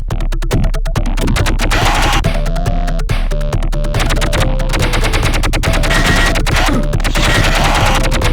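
Rapid, dense bursts of gunfire from a Mega Drive/Genesis video game, loud and continuous machine-gun style rattling over game music for the whole stretch, with no talking.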